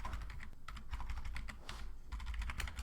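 Quick, irregular key clicks from typing on a computer keyboard run continuously and close up, with no voices.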